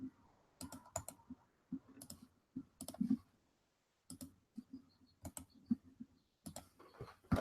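Computer keyboard typed in quick bursts of crisp clicks and key taps, separated by short pauses, close and fairly quiet with no talking.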